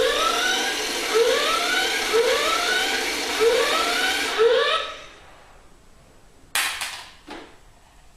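A flying helicopter alarm clock toy goes off, sounding a loud repeating electronic chirp alarm in rising sweeps that cuts out midway, followed by a few sharp clicks and thumps.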